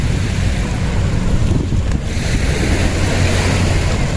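Surf rolling in at Dolomite Beach along a littered shoreline, a steady low rumble of waves mixed with strong wind buffeting the microphone, continuous and fairly loud with no voices.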